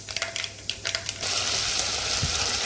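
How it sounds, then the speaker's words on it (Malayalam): Shallots, green chili, crushed ginger and garlic, and curry leaves are sautéed in coconut oil with mustard and fenugreek seeds for a fish curry: a few light clinks and stirs, then a sudden loud, steady sizzle close by. "ഇഞ്ചി, വെളുത്തുള്ളി എല്ലാം കൂടെ ചതച്ച്, കറിവേപ്പില അതെല്ലാം കൂടെ ഞാൻ അതിലിട്ട് വഴറ്റിയെടുക്കുവാണേ."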